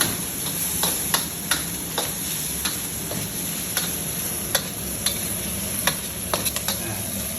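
Garlic stir-frying in pork fat hisses steadily in a pan, broken by repeated sharp clicks and taps of the spatula against the metal at an irregular pace.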